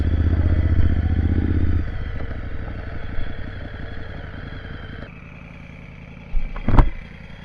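Motorcycle engines idle and rumble nearby as bikes get ready to set off for a rally, with some clatter and scraping and a brief louder burst near the end.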